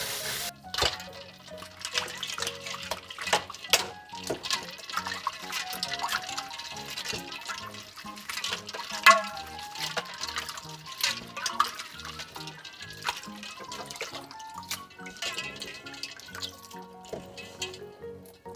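Noodles are rubbed hard and rinsed under a running tap, water splashing and dripping in an irregular stream with wet squelches and occasional clinks, close and fairly busy throughout.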